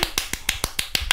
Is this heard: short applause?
yes